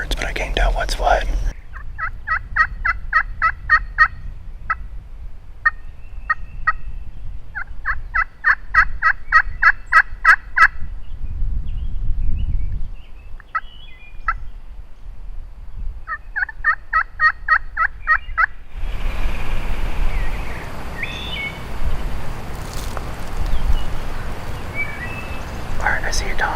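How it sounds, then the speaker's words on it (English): Wild turkey gobbling outdoors in repeated bursts, several rapid rattling calls spaced apart, fairly loud and close, followed by a stretch of breezy background noise. "All I know is it's a turkey."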